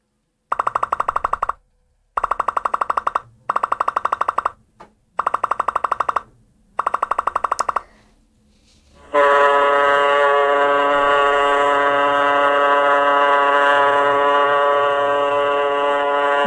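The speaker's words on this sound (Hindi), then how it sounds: "ये तो इस तरह मालूम हो रहा है किसी ट्रक के हॉर्न की आवाज है" Truck horn blaring in five loud, evenly spaced blasts, then a short pause before one long, sustained honk that holds steady to the end, with no voices.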